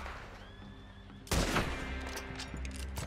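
A single loud gunshot blast with a long echoing tail rings out in the Red Dead Redemption 2 video game during a moose hunt, following a quiet stretch of low ambient hum.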